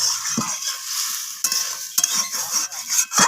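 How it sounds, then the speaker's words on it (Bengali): Vegetables frying in a pot for a village-style bitter gourd and greens chachchari are splashed with water and stirred, giving a bright sizzling hiss broken by scraping strokes and short bursts, close and with no voices. "তো এখন আমি এখানে জল দিয়ে দিলাম প্রয়োজন মতো।"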